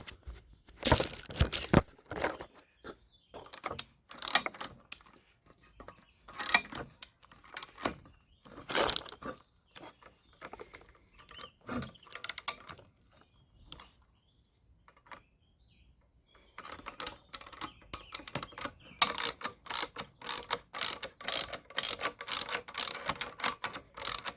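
A 17 mm socket unscrews a part on a Renault Twingo, making rapid metallic ratchet clicks in bursts with pauses, then denser clicking near the end, close and alone without talk.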